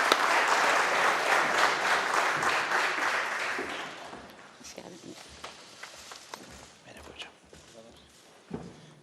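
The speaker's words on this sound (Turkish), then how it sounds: "Sizi alkışlarla sahneye davet ediyoruz." An audience in a hall applauds as the Galatasaray head coach is invited on stage at an auction event, loud clapping that fades after a few seconds into scattered claps, footsteps and murmuring.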